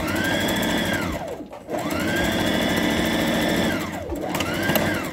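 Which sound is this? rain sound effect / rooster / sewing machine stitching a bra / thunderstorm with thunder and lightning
sewing machine stitching a bra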